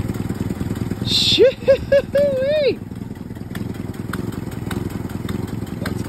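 A first-generation Toyota 4Runner engine runs with its power steering pump going, a steady even drone throughout, while a person briefly exclaims over it.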